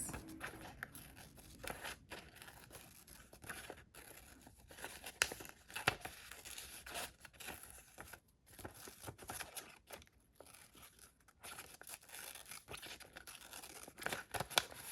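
Quiet snipping and rustling of scissors cutting paper, irregular crisp cuts with soft crinkling between them, close by.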